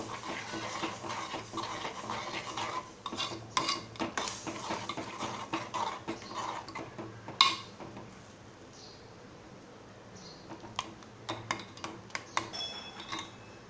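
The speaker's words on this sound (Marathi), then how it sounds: "आता व्यवस्थित ढवळून घेणार आहोत" A utensil stirs horse gram flour into water in a metal pot, with rapid scraping clinks and taps close by, busy at first and then thinning to scattered knocks.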